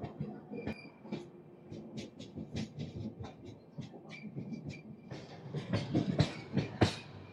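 Express train 17221 from Kakinada Port to Mumbai LTT runs on rails while joining the Howrah–Chennai main line, heard from inside with rhythmic wheel clatter that grows louder and busier toward the end.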